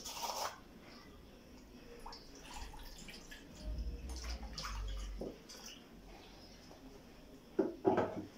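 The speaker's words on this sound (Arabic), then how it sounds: "غادي ناخذ نص لتر ديال الحليب" Half a liter of milk poured into a bowl for a chilled lemon dessert. The pour is a soft, steady liquid trickle with a few faint clinks, heard close and quiet, with no talking.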